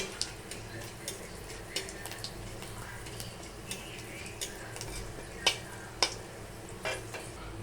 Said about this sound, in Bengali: একটু ভাজা হয়ে যাক